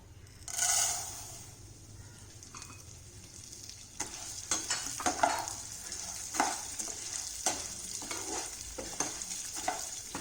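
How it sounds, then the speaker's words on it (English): Pasta roasts in ghee in a pan, first a brief hiss as it goes in, then a quieter sizzle with repeated scraping and stirring strokes, close and fairly soft, with no voices. "In the same pan, by using the same ghee, let's roast this pasta."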